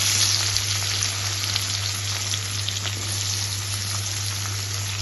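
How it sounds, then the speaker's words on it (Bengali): Onions and tomatoes fry in refined oil and butter with cardamom and cinnamon for paneer butter masala, giving a constant, even crackling sizzle with no talking. "পেঁয়াজটা কেটে টমেটো আর পেঁয়াজ একসাথে ভেজে নেবো।"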